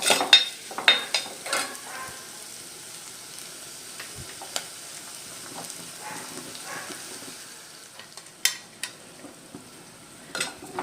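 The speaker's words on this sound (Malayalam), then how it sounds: "ഇനിയിലേക്ക് തക്കാളി ഇട്ട് കൊടുക്കാം കേട്ടോ ഒന്ന് വരട്ടിയെടുക്കാം" Tomatoes stirred into softened onion in a pan for a Malayalam okra and prawn dish, a soft continuous sizzle under intermittent spoon scrapes and clinks against the pan.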